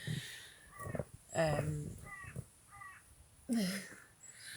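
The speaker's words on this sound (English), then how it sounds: "Crows are joining us." Crows caw outdoors in a series of harsh, hoarse calls, several spaced bursts at moderate distance, mixed with a person talking.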